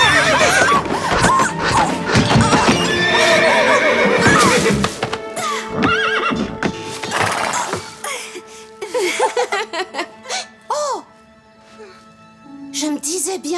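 A Playmobil cartoon's agitated horse whinnies and neighs repeatedly, loud and close, mixed with hoof clip-clops, chuckles and animated talk.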